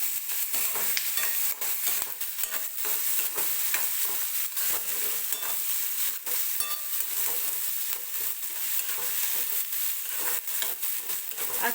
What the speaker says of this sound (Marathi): कांदा हलकासा गोल्डन रंग येईपर्यंत आपल्याला भाजून घ्यायचा आहे तेलामध्ये.